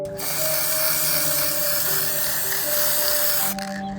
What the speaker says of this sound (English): I'll first spray paint it in gold